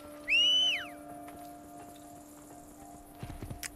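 A horse in the video game Assassin's Creed Brotherhood gives a short, bright whinny-like call near the start. A few soft hoof clops follow near the end over a quiet, humming game ambience.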